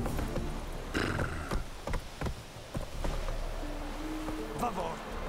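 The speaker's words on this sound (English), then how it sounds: "Can I gallop up this with my horse?" Geralt's horse Roach galloping in The Witcher 3: Wild Hunt, a steady clip-clop of hooves under a wash of wind- and surf-like ambience, with occasional heavier thuds and a voice faintly present.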